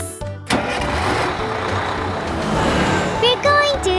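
A cartoon bus engine starts with a loud rumbling turnover, then idles steadily for several seconds, with a few bright tonal cartoon sound effects near the end.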